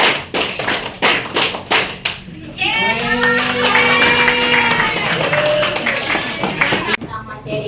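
Quick rhythmic clapping from a group of children in a counting game, a fast burst of hand claps that gives way to overlapping young voices and cheering.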